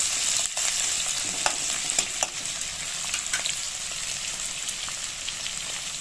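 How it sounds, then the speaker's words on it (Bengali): Chopped onion lightly frying in oil for a Bengali fish curry, giving a continuous, even hiss of close sizzling with a few faint clinks of stirring, and no voices. "কুচিয়ে রাখা পেঁয়াজটা দিয়ে দিলাম, দিয়ে হালকা ভাজতে হবে"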